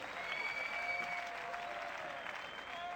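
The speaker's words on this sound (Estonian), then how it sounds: "El aplauso para nuestras animadoras" Applause from the crowd at a 2009 beach soccer match in Castellón, Estonia against Portugal, greeting the cheerleaders; a steady, dense clapping wash lasting throughout, with a faint tonal whistle-like line running underneath.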